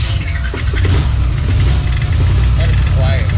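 A junkyard 4.8 liter factory engine in a turbo nitrous rat rod idles steadily with a deep low rumble, fairly loud and continuous, while people talk over it.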